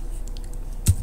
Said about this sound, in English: I just scrolled up here and I typed in